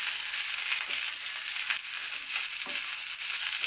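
Vallarai, mudakathan and mint leaves sauté in a pan with a steady close hiss and sizzle, faint crackles and stirring scrapes, and no talking.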